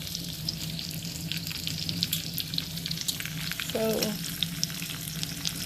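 Bacon fries in a pan with a steady, close sizzle and crackle, scattered sharp pops throughout, and one brief spoken word.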